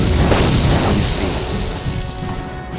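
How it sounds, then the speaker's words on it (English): A loud explosion in the KOTOR video game booms at the start and rumbles on with crackling debris noise, slowly fading over a few seconds. "Was that explosion him?"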